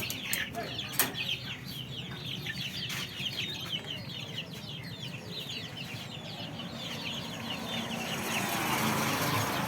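Native country chickens and chicks cluck and peep continuously at a chick sale in Kadalangudi, a busy, steady flock chorus with soft chirps over a low murmur of background noise, growing slightly louder toward the end.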